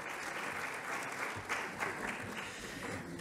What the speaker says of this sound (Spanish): despidamos con un fuerte aplauso